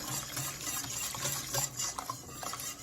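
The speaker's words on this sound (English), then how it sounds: "So just keep stirring." A spoon stirs chili relleno sauce thickening in a pot, a close, steady scraping and swishing with light clinks of utensil on metal and a soft bubbling underneath.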